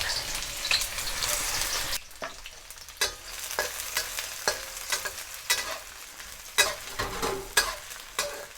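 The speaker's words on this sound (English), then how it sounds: "once that oil is hot, we're gonna add our shallots" Shallots sizzle and crackle in hot canola oil over medium-high heat for a Filipino chicken adobo. Several loud sizzling bursts come close up, with stirring scrapes between them and no talking.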